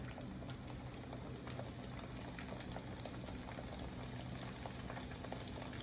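Eggplant slices fry in hot oil, giving a continuous dense sizzle with fine crackling pops at an even level throughout. No talking.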